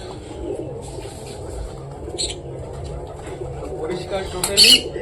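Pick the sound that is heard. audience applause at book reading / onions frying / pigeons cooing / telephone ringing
pigeons cooing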